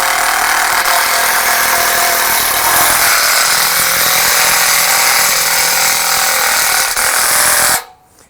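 Power tool whirring steadily and loudly while driving screws into a ShedFast shed, one continuous run of about eight seconds that cuts off abruptly at the end.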